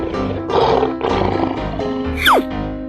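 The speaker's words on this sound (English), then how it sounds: "Lion." A lion roars in a 3D animal slide game, a loud, rough roar heard in a few bursts over game music and ending with a quick descending whistle-like effect.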